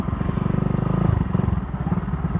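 A Rouser motorcycle, not built for trail use, ridden along a dirt trail, its engine close and loud with a steady, rapid pulsing throb that swells slightly midway.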